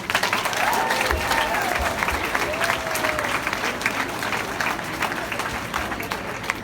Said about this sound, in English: So give a big round of applause for yourselves.